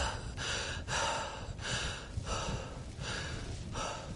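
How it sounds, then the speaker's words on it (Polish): Panting of the player character in Skyrim, a steady run of heavy breaths repeating about every 0.7 seconds at moderate level over a constant game background. "Ale sapie ten nasz bohater zawsze."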